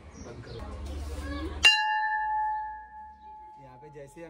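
A temple bell at a Shiva shrine is struck once, giving a sharp metallic clang that rings on with a long, clear sustain, after muffled speech and faint chatter before and after.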